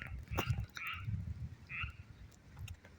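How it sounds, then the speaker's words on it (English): A loud frog croaks repeatedly at 2:45 in the morning near an emergency room parking lot, with rhythmic low pulsing calls and sharper bursts coming from nearby over a quiet night background. "There is a really loud frog over there."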